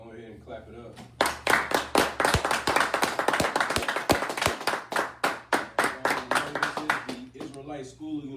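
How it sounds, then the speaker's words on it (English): A group claps hands in a steady, rapid rhythm of sharp, loud claps running for several seconds, with voices talking over it at the start and end, at a gathering of the Israelite School of Universal Practical Knowledge in Harlem, New York. "go ahead and clap it up"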